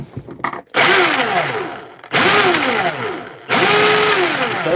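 A Milwaukee hammer drill on battery power, running roughly in loud close bursts with a whining motor that rises and falls in pitch, stopping and restarting several times.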